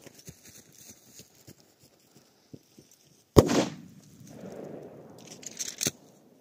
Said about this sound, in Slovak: Poďme na posledné 3 petardy. A idem na Big Bang 2G,